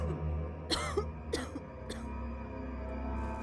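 Three or four harsh coughs in quick succession, close up, followed by a quieter low hum.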